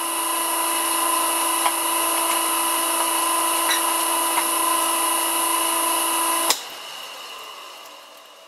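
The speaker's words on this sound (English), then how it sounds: "This is a 12mm drill bit" A drill with a 12mm bit whines at a high, steady pitch close up, then cuts off abruptly, leaving a quieter background hum.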